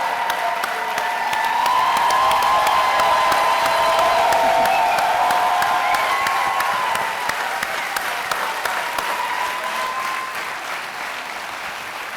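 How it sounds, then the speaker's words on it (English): Sustained audience applause fills a room at an evening event honoring a former Atlanta Falcons quarterback, rising quickly to a loud, dense roar of clapping with some cheering, then slowly tapering over about twelve seconds. "I want y'all to give them a round of applause"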